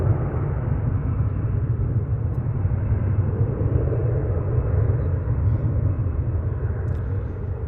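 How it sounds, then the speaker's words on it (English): A Boeing 767 lands on the far side of DFW airport, heard as a steady, distant jet roar and deep rumble that holds evenly throughout with no talk. "So we check out this 767 landing on the other side."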